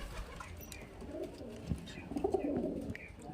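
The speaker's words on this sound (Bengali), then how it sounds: "হেভি হেভি কোয়ালিটির পায়রা আছে দেখতে পাচ্ছেন কোয়ালিটি দেখুন পায়রা" Pigeons of a mixed flock, males and females, cooing softly at close range, low rounded coos repeating over steady background hiss.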